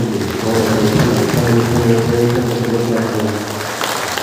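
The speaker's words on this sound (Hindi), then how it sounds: "ताली बजा जोर जोर से" An audience at a yoga session claps loudly and steadily, a dense continuous patter lasting the whole span, mixed with voices and a humming, chant-like tone underneath.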